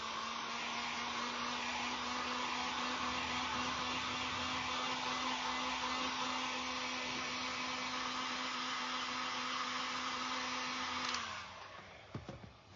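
A hair dryer blows steadily and loudly for about eleven seconds, drying the damp edges of a cardboard jack-o'-lantern made from an Amazon mailer, then switches off and winds down, followed by a few handling knocks.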